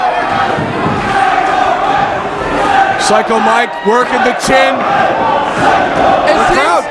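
Wrestling event crowd roars, cheers and shouts continuously throughout, loud and dense, with individual yells breaking out and a commentator talking over the noise.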